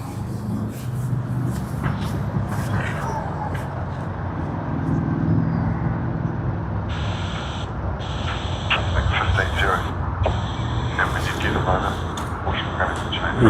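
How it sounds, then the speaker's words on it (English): Jetstar airliner taking off at Sydney Airport, a sustained engine rumble that swells gradually over the clip, with a person talking over it throughout. "Yes, finally second attempt of Jetstar. We will now be capturing it."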